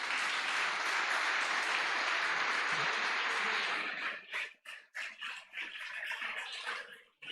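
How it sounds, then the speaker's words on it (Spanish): Church congregation applauding during a sermon, a loud dense wash of clapping that thins into scattered claps and trails off near the end. "Si ese aplauso es para el Señor, déselo con ganas"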